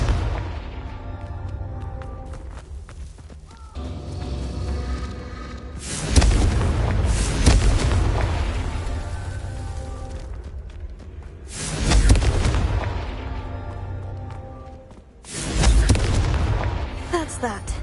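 Confringo fire spells in Hogwarts Legacy explode in three loud booming blasts, each a sharp burst followed by a long rumbling decay, spaced several seconds apart, with game music underneath.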